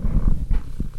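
A cat purrs close by, a low rumbling throb with soft rhythmic pulses, heard on its own with no talking.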